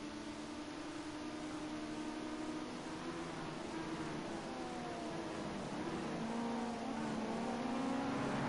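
A Ginetta GT5 race car engine drones steadily during a junior race at Dubai International, its pitch rising and falling as it passes over constant track noise.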